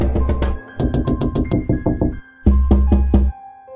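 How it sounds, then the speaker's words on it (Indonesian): Sharp knocks on window glass as a horror sound effect, in bursts: a quick run of taps, a steady sequence of about eight knocks, then a louder closer group of five, with resonant tones beneath and no talk. "sosok itu terus-menerus mengetuk kaca jendela kamar"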